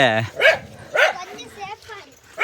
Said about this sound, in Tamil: கிரேடனே 2 நாய், இத்தனை நாய்